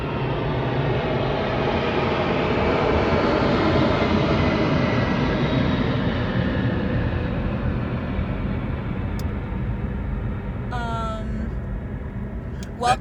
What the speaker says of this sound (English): That airplane was super low.